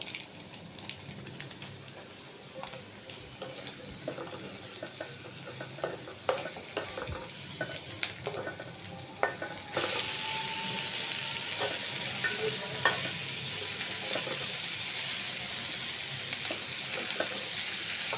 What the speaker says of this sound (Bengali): তো আমি সুন্দর করে লাড়া দিয়ে মিশিয়ে নিব